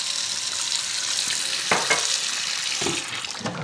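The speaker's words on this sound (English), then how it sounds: "I'm going to go after it with hot water and soap and my scratcher" Hot soapy water runs and splashes as a cast iron pot is scrubbed with a pot scratcher, a steady wet hiss broken by a few louder scraping strokes near the end.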